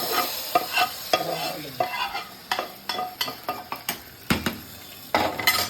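Dal being stirred in a pan as dried red chillies and bay leaves fry in hot oil, with a steady sizzle under repeated scraping and clinking strokes of a spoon against the metal pot.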